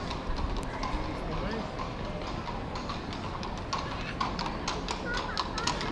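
Horse hooves clip-clop steadily on pavement amid a busy street in Vienna, with people talking throughout and a constant crowd murmur.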